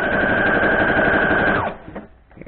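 A sewing machine stitches the first seam of a 12-inch log cabin quilt block, running as a steady, continuous close whir for under two seconds, then stopping, with a few soft handling sounds after.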